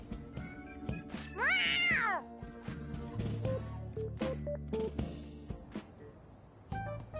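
A cat in the Persona 5 Royal video game lets out a loud, drawn-out meow that rises and falls, sounding clearly over game music and other effects.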